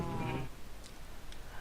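A Minecraft sheep gives a single short, close bleat at the start, followed by quiet ambient game sound.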